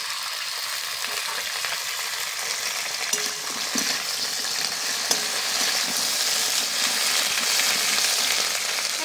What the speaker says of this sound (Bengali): কড়াইয়ের তেল গরম হয়ে গেছে, এবার ঢেঁড়সগুলো আমি ভেজে নেব।